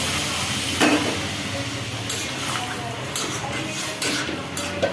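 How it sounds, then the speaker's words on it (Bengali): A pan of fish roe curry with ridge gourd and potato gets water poured in and a lid set on. A loud, continuous steamy hiss fills the sound, broken by a few metallic clunks of pan and lid. "এবার ঢাকাটা দিয়ে দেবো"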